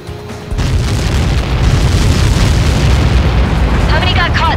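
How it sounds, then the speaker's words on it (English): Heavy missile impacts from Helios projectiles in Ace Combat 7 erupt into a loud, sustained rumbling blast that rolls on for seconds, with radio chatter faintly underneath. "How many got caught in that explosion?"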